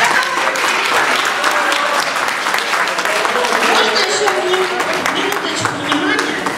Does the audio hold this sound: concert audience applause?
yes